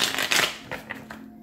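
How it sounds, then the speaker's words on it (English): Tarot cards are shuffled by hand up close, a quick papery riffle followed by a few softer slaps as the deck settles. "Last shuffle for Libra, October 17th to the 18th."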